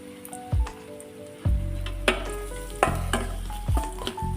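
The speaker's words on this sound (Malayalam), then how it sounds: "പച്ചമുളക് ചേർത്ത് വഴറ്റണം" Green chillies sautéing in a pan for squid thoran, a continuous close sizzle with five or six distinct stirring strokes, each a sharp scrape that briefly swells the frying noise.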